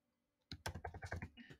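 Quick run of clicky keystrokes on a computer keyboard, about a second of close, fairly quiet typing after a moment of near silence.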